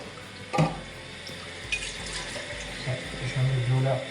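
Water runs from a tap into a cooking pot while tomato velouté is being made, a steady moderate flow with brief clatters, heard alongside kitchen noise.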